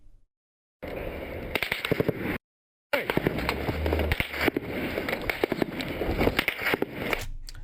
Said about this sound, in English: So you're hearing a crack, thump. That normally means that the bullet's coming towards you.